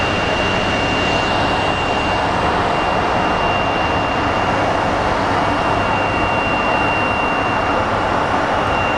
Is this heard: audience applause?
no